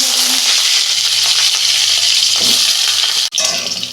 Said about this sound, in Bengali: ওই তেলেই আমি আলুগুলো একটু ভেজে নিচ্ছি।